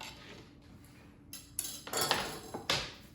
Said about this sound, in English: to cut it, we're going to get our cutting board and our knife